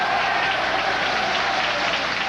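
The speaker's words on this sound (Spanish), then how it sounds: "el salón en pleno se ponía de pie entre aplausos y celebraciones" A full hall breaks into dense, sustained applause and celebration, loud and unbroken throughout with no distinct voices standing out.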